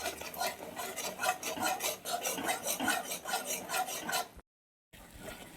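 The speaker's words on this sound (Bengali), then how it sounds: "দিয়ে ভালো করে নাড়িয়ে চাড়িয়ে" Ground coriander and cumin masala is stirred and scraped around a pan with a utensil, making steady, close rhythmic rubbing strokes that stop briefly near the end before resuming.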